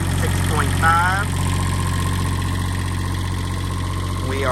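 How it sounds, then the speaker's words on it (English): An Onan 6.5 diesel generator in a 1993 Bounder motorhome idles with a steady low hum and rumble throughout. Brief faint chirps are heard over it. "You can hear the generator."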